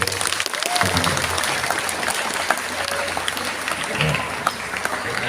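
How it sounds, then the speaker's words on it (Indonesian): Clapping from the audience at a Ramadan religious lecture: a crowd applauds continuously for a few seconds, moderately loud, with voices mixed into the clapping. "Tepuk tangan untuk"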